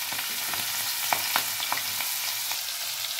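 Whole garam masala, green chillies and grated onion sizzle steadily in hot oil for a Bengali telkoi fish curry, with a few sharper pops and the scrape of stirring over a dense, continuous hiss.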